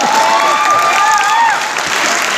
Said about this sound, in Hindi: थोड़ा जोरदार ताली पत्नियों के लिए प्लीज।